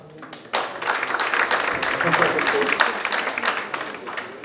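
An audience in a hall at a round-table discussion bursts into applause as an applause meter, a sudden swell of many hands clapping that stays thick and lively for several seconds.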